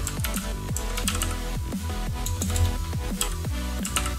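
Rapid typing on a computer keyboard, with crisp, closely spaced key clicks forming a fairly loud, steady rhythm and no talking.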